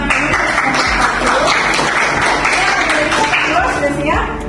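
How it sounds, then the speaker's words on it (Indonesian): A classroom audience at a university teaching session gives a short burst of steady, dense clapping, loud and close, before it begins to taper at the end. "Oke, kita berikan tepuk tangan dulu."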